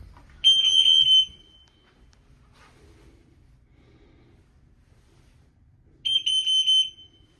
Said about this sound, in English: Go hit a button to stop that beeping.